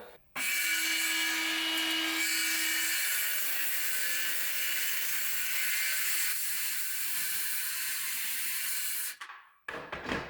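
A homemade track saw rips through clamped wood with a loud, harsh, continuous whine and roar that holds for about nine seconds, then cuts off abruptly.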